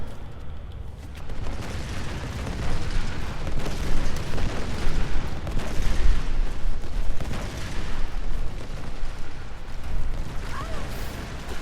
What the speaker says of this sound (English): So you have to blow this thing up.